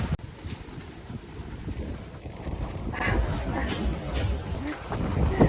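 A sailing yacht runs with the wind at 5 to 6 knots on the open Pacific between the Marquesas and Tuamotu islands, with steady wind buffeting the microphone, rushing water along the hull and occasional splashes.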